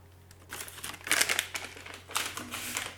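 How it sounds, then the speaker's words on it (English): Crinkly paper wrapper of a cough drop being handled and pulled apart up close, a few bursts of crackling rustle over about three seconds. "When you take a cough drop, you take off the paper, put it in your mouth"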